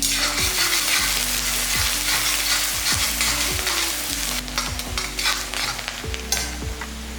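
Sliced onion sizzles in hot oil with mustard seeds and curry leaves, a loud continuous frying hiss broken by repeated scrapes of stirring, with tonal background music underneath.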